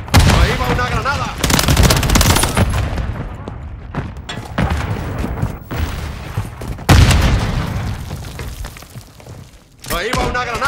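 Grenade blasts and rapid machine-gun fire from a Modern Warfare 3 multiplayer match, heavy booming bursts and rattling volleys recurring across the scene with voices shouting over the combat.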